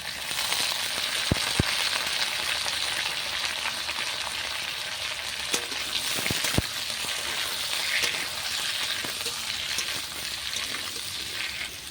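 Bitter gourd, potato and onion sizzle steadily in hot ghee tempered with cumin in a pan, a continuous loud frying hiss with a few brief clinks of a utensil.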